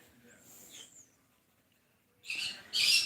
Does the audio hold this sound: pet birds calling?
yes